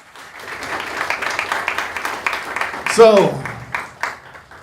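An audience at a spring music recital breaks into applause for a performer, a dense patter of clapping rising and fading, briefly under a voice speaking.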